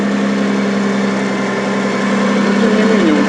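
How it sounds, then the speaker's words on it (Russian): A cold Lexus RX300 with a turbo and custom exhaust idles at raised revs while the engine warms up, a steady, loud, even drone with no breaks. "Он еще не прогрелся, там не вышел на нормальный режим, он сейчас на повышенных оборотах,"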